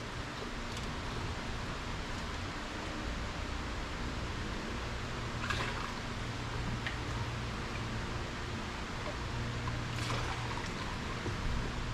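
A continuous trickling pour of water fills the radiator of a 1964 beater car, steady and fairly close, with no voices over it.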